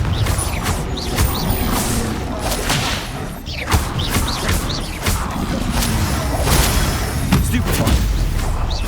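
Confringo fire spell cast repeatedly during combat in the video game Hogwarts Legacy, a dense run of explosive bursts, mechanical clanks and booms layered over busy battle noise.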